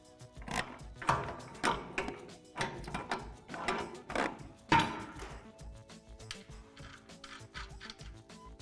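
Hardware being tightened on the gas spring bracket of a Lifetime Mammoth Series portable basketball pole, heard as a run of close, sharp mechanical clicks and ratcheting bursts at an uneven rhythm, loudest early and thinning toward the end.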